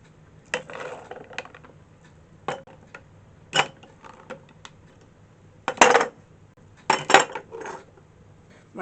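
Dried chickpeas poured into pint canning jars, with sharp clinks and rattles in short irregular bursts, some close and loud, between quiet gaps; no speech.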